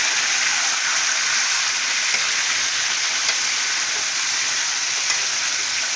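Chicken pieces frying in hot oil for a chicken korma, giving off a continuous loud hissing sizzle that holds steady close by, with no voices.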